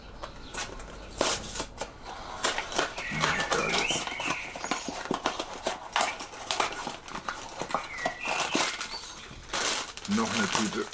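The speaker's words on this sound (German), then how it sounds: "das musst du kaltblütig aufreißen, um zu deinem Inhalt zu kommen" Hands tear and crinkle a foil bag from a Marvel loot box close up, with bursts of sharp rustling and ripping spread over several seconds and quiet talk in between.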